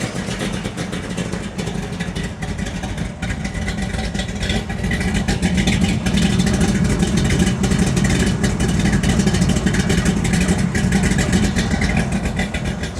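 A 540 cubic inch big block V8 in a 1969 Camaro runs loud and close, a dense rumbling roar that swells a little in the middle and holds strong to the end, with no talking.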